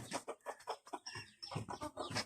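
Fancy chickens on a farm cluck in quick, quiet bursts, several short calls overlapping in an uneven rhythm with no voices present.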